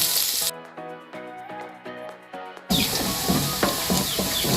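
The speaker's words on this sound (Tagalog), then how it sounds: "Ilalagay na natin ang ating aromatics. Bawang muna." Garlic sizzling loudly in hot oil in a home kitchen while cooking laing, a steady bright crackle that comes in at full strength after a stretch of quieter music with birdsong.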